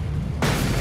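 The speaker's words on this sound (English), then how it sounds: "Now we'll do a flashbang." A flashbang grenade going off in the video game Alan Wake: a quiet stretch followed by a sudden loud, broadband burst that holds to the end.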